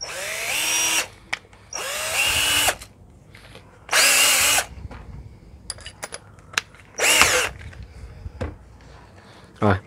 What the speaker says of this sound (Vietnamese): Rồi còn đây là con khoan à,